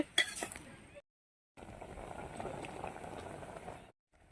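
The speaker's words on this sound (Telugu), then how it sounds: "మన పులుసు అయితే బాగా మరిగిపోతుందండి" A mango seed tamarind stew (pulusu) boiling in a pot, with a sharp clink at the start, a brief silence, then a steady, close bubbling simmer that continues for a few seconds.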